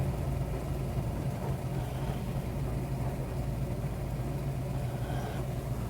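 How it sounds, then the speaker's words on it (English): A 1965 Ford Mustang A Code fastback with a 4-speed runs steadily down the freeway, its engine giving a constant low drone mixed with road and wind noise, with no talk. "drive down the freeway so you get an idea how this Mustang runs and drives"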